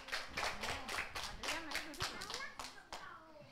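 Kindergarten children at a talent show clap for a classmate named Adrian in a quick, rhythmic unison beat, with a voice and other young voices heard over the claps.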